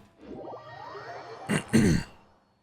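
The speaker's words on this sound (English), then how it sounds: "I've been clearing my throat a lot tonight" A person clears their throat with two short, rough bursts close to the microphone, following quieter low background sound.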